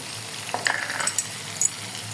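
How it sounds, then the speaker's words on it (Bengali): Turmeric and black cumin sizzle and crackle quietly in hot oil, a soft continuous frying hiss with a few brief pops. "হলুদটা দিয়ে এটাকে ভাজা ভাজা হতে থাকবে"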